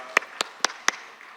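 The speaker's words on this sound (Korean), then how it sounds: "우리 하나님께 영광의 박수 올려드립니다" Four sharp, evenly spaced claps ring out in a church service, a congregation clapping in unison, crisp and close in a quiet room.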